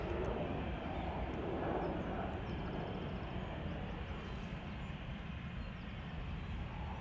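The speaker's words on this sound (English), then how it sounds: "This is a German Airways Embraer 190 flying for KLM as KLM flight 1545" A German Airways Embraer 190 flying for KLM departs Schiphol's Polderbaan, runway 36L, outbound to Leeds, a steady broad jet roar holding constant throughout with no talk.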